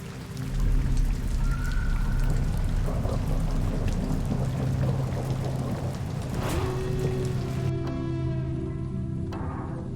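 Steady rain falls at night, a dense continuous hiss that holds evenly throughout with no voices, thickening slightly toward the end.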